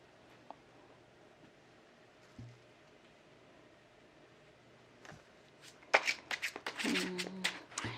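Tarot cards shuffled by hand, starting with quiet handling and faint taps before a louder, close burst of riffling and sliding cards over the last few seconds, with no talking.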